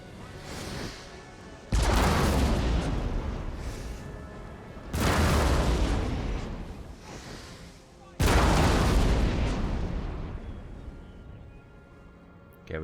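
Three heavy volleys of artillery cannon fire boom out in turn in a Napoleon Total War battle, each a loud, broad blast that rolls and fades over a couple of seconds before the next salvo, with a low rumble between.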